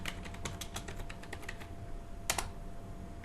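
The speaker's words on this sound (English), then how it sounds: "at this point you type in whatever the message you want to send to the server from the keyboard" A computer keyboard is typed on in a quick irregular burst of close key clicks, then a short pause before a final louder keypress, likely the enter key.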